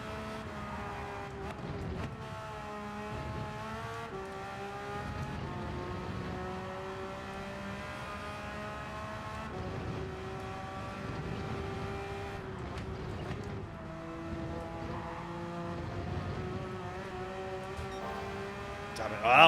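Porsche race car engine in the Gran Turismo 7 racing game, a steady high-revving drone that shifts pitch through gear changes across the lap, with a voice talking faintly at points over the engine.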